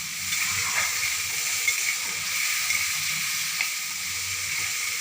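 Potatoes with turmeric, chili and cumin powder, plus a little water, sauté in a pan for a Bengali jackfruit and shrimp dish, giving a steady, close sizzle and hiss with faint stirring scrapes throughout.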